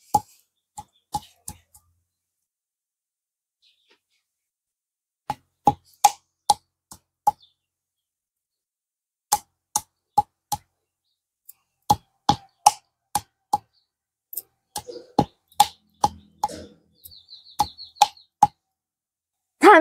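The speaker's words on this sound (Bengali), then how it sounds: "আমি বড়িগুলো থেতলে নিয়েছি।" Jujube fruits (boroi) being crushed and pounded, giving sharp, close thuds and knocks in irregular bursts separated by short pauses, with no talking.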